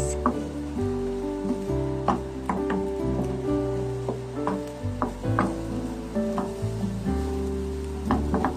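Onion leeks sizzle steadily in a hot pan for a home breakfast, a continuous frying hiss broken by light clinks and stirring taps.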